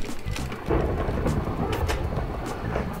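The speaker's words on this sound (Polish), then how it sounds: "Burza!" Thunderstorm in the video game Minecraft: loud, rolling thunder rumbles over a steady wash of rain, filling the whole stretch with dense broadband noise and no talk.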